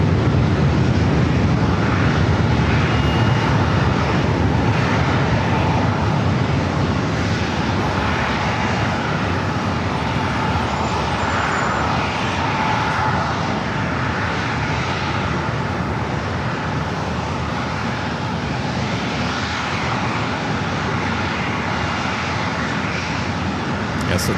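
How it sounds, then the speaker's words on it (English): An Airbus A321neo jet at San Diego airport produces a loud, sustained broadband engine roar that holds steady throughout, heard outdoors with wind buffeting the microphone. "It's an A321neo."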